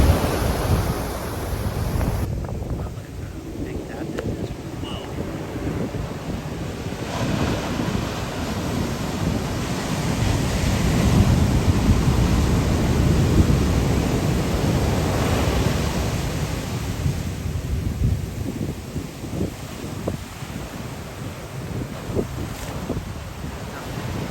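Ocean surf roars continuously at Laguna Beach as heavy wind buffets the microphone, the waves swelling louder through the middle.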